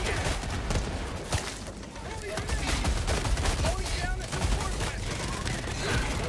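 Dense, steady gunfire from a video game (Helldivers 2) rattles throughout at moderate loudness, with players' voice chat running over it.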